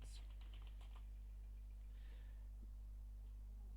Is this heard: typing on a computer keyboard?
yes